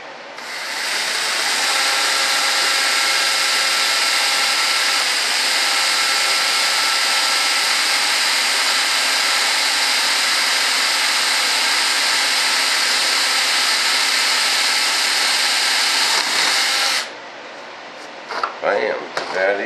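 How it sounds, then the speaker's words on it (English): Power drill boring into wood held in a drill jig while building an RC jet B-1 Bomber; a loud, steady high whine runs nonstop for about seventeen seconds, then cuts off into a few brief clatters. "let the drill do the work. We don't want to splitter out this wood"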